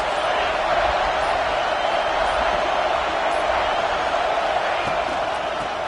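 A college football crowd at ASU vs. NC State cheers loudly for the defense, a sustained, dense roar of many voices that stays level throughout.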